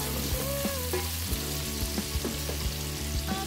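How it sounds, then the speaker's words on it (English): Onions frying in a pan give a steady close sizzle, with several sharp clinks and knocks of a utensil against the pan at irregular intervals and a faint tonal hum underneath, no voices present. "So we are going to wait this onion to cook."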